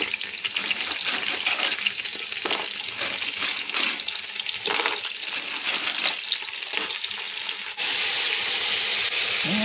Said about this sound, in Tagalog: Lagyan na natin ang ating tulya or halaan.